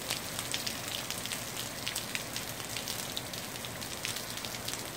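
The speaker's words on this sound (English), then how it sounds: "It's raining." Steady rain falls in the desert, a soft, even patter of drops hitting the ground, fairly quiet and continuous with no voices.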